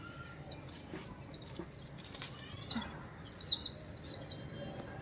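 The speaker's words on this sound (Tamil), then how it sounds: "உங்களுக்கு கேட்குதுங்களா சத்தம் குருவி சத்தம் இது பார்த்தீங்கன்னா அந்த செவன் சிஸ்டர் அப்படின்ட்டு சொல்லுவாங்க" Jungle babblers (seven sisters) flit through bean vines in a home vegetable garden, giving repeated bright, squeaky chirps in bursts that grow busier toward the end, with soft fluttering and rustling nearby.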